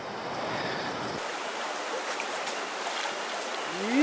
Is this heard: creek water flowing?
yes